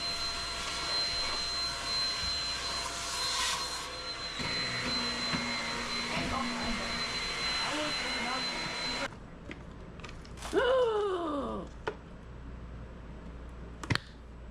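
A vacuum cleaner runs steadily inside an RV, loud and close, with a whining motor drone that changes pitch midway and then cuts off, leaving scattered clicks, rustling and a brief squeaky sweep.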